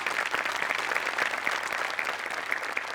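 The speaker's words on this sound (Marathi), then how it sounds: "एकदा जोरदार टाळ्या होऊन जाऊ देत" A live comedy-show audience breaks into loud, steady applause, dense clapping sustained for about three seconds with a faint crowd murmur underneath and no talking.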